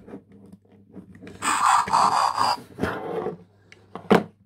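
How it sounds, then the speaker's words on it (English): Electronic transformation sound effect from a Transformers Energon Bulkhead toy switching to vehicle mode: a dense, buzzing whir of about a second and a half, then a shorter burst and a sharp final click, heard close and fairly loud. "has the transforming to vehicle mode sound."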